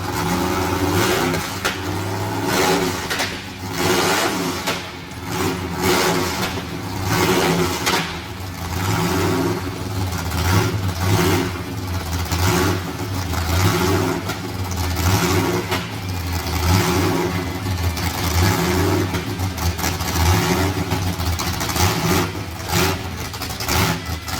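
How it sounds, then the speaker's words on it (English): A car engine fires up and revs repeatedly, a loud, throaty mid-pitched roar that swells and falls in a steady pattern for over twenty seconds, with no one speaking over it. "the feeling of firing that car up"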